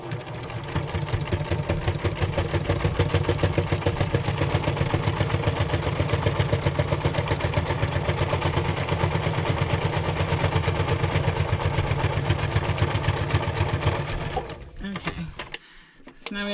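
Sewing machine driving its needle through cardboard, a fast steady mechanical chatter close by for about fourteen seconds before it stops abruptly, leaving near silence.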